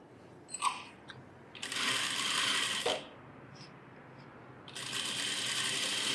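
A sewing machine stitches pieces of a chudithar in bursts, with short mechanical runs near the start and longer steady whirring stretches in the middle and at the end, close by with no talk.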